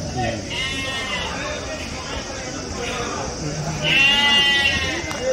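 Rams and sheep bleat repeatedly at a busy livestock market held before Bakrid, their calls rising over steady crowd chatter and voices, with one louder bleat near the end.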